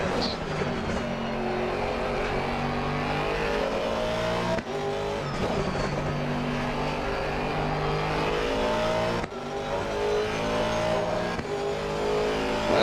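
In a racing video game, an Aston Martin race car howls around the Nürburgring, its engine droning loud and continuous with two sharp cuts at gear shifts before the pitch climbs again.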